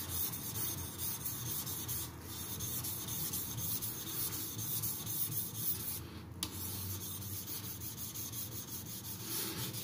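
Steady rubbing scrape of a Tojiro Shirogami nakiri F-699 being sharpened on a wet King whetstone, continuous back-and-forth grinding strokes throughout, close and fairly loud, with no talking.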